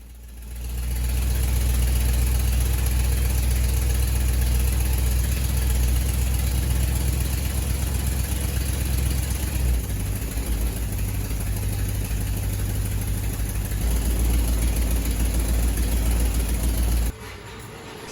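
A 1959 Plymouth Fury engine idles steadily for a long stretch, a low rumbling drone that shifts slightly in pitch midway, then drops off near the end.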